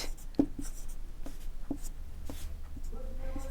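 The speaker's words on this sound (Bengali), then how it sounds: "সেইটাই আমি লিখব" Pen writing on paper during a lesson: a series of short, distinct scratching strokes and taps, fairly close, over a low background hum.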